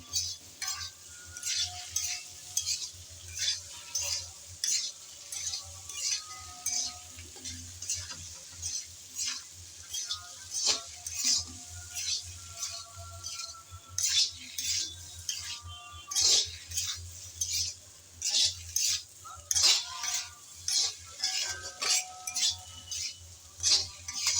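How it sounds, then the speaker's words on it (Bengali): Onion, green chilies and dry spices stir-fried in a pan, a constant sizzle under rapid, repeated scraping and clinking strokes of a spatula against the metal, close and busy, with no voices. "পেঁয়াজ, কাঁচামরিচ আর শুকনো মশলাগুলো দিয়ে এবার আবারও ভেজে নিতে হবে ভালোভাবে নেড়েচেড়ে।"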